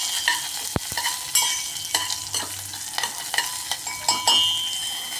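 Grated carrot and beetroot stirred in hot oil, a spatula knocking and scraping the pan in repeated strokes over a gentle sizzle, close and clear, with one sharp clack early and no talking.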